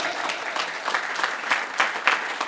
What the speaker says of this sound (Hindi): तालियां भाई अमोल के लिए ज्यादा चाहिए हमको